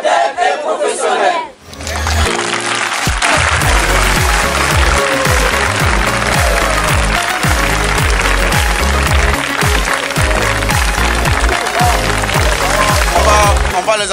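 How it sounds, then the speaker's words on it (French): Applause from an audience at an oratory arts event at the CAFOP teacher-training school in Odienné: after a brief quiet start, loud sustained clapping and crowd noise fill the room, with steady rhythmic low thumps running underneath. "On va les applaudir encore."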